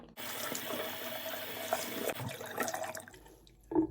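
Tap water runs and splashes into a sink while a cold-process soap bar is rinsed, a steady close wash with a brief louder splash near the end.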